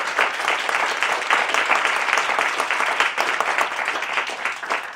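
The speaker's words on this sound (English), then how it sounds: "Let's give 3 cheers for facts and a round of applause to our panelists." A panel-discussion audience gives a round of applause, dense continuous clapping from many people filling the room at a steady level for the whole span.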